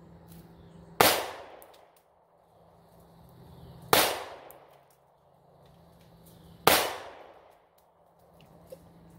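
Springfield Hellcat pistol fired three times, each a sharp loud report with a decaying tail, spaced roughly three seconds apart, with no talk.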